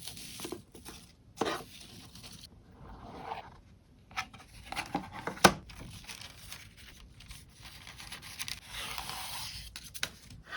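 Quiet rustling and tearing of wrapping paper as a new Smythson notebook is unwrapped, soft crinkles and rubs with a few sharper rips, close and faint.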